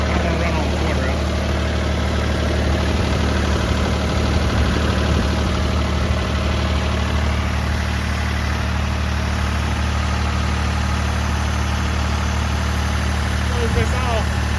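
Farm tractor engine idling steadily at about 1800 rpm, driving a sprayer through the 540 PTO, a constant loud low rumble and hum with someone speaking over it.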